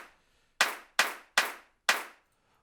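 Four crisp electronic clap samples from FL Studio, evenly spaced and sharp-attacked with short noisy decays, played alone on a silent background.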